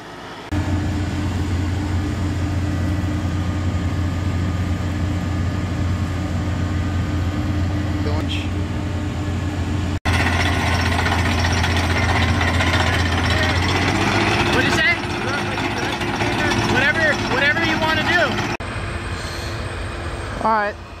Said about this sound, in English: we're drilling 8 inches now